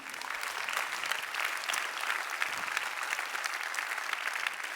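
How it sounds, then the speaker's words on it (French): Audience applause at a round table forum event, a steady sustained wash of many hands clapping, moderately loud and continuous throughout, with no voices over it. "On peut les applaudir s'il vous plaît, merci beaucoup."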